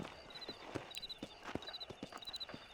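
Horse hooves clip-clopping in the Red Dead Redemption remaster, set around Armadillo, a steady rhythmic trot of soft thuds with a faint musical tone behind, fairly quiet with no talking.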